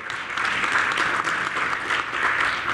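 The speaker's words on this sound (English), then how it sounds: "give him a round of applause" An audience at a public lecture gives steady applause for a former university provost, a dense, even wash of many hands clapping at once, loud and sustained without a break.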